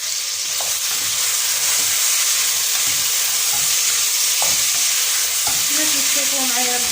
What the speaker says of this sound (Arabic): غادا كتشحر مع داك اللحم